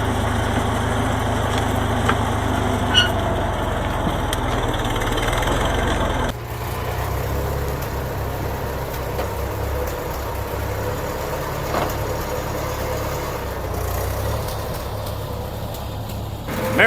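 A Farmall 400 tractor engine runs steadily with a low, chugging drone, close and constant throughout, dropping slightly in intensity partway through.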